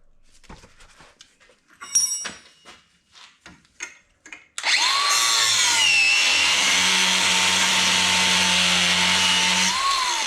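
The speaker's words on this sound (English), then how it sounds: "we're going to have to cut this damn stud off" Loud power-tool cutting of a stud off a truck lift kit during a lift install on a GMC Jimmy/Blazer, a steady roaring grind starting midway and running continuously after a stretch of scattered clanks and shop noises.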